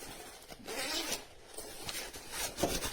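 A zipper runs along a small pocket of a KLOSTAIN 40x20x25 cabin backpack as it is opened or closed, giving a close, raspy pull with several uneven strokes.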